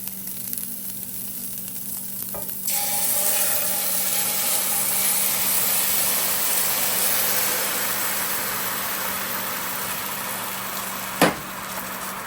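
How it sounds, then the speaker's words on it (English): Eggs poured over cooked meat in an electric skillet set to about 350 degrees, a sizzle that swells suddenly and holds as a loud, steady hiss, with one brief knock near the end. "I'm going to go ahead and add the eggs to it."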